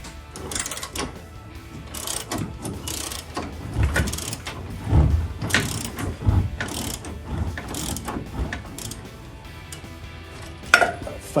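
Crescent wrench working a bolt on the upper control arm of a 2019-2024 Chevrolet Silverado 1500, giving close repeated metallic clicks and scrapes in an irregular run of strokes, with no talk.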